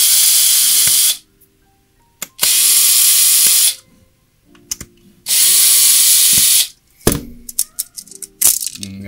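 A power screwdriver whirs in three loud bursts, each about a second long, as screws are backed out of a Western Digital MyCloud enclosure, with small clicks and handling taps in the pauses between.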